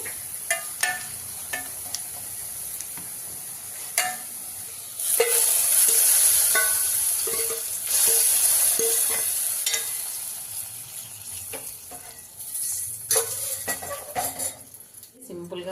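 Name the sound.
dal tempering frying with asafoetida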